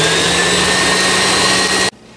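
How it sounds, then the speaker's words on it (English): Electric mixer on high beating cream into butter under a tea towel, a loud steady whine that cuts off abruptly near the end, leaving quiet. "So I'm going to crank it back up on high and put our tea towel over it and let her beat for a minute."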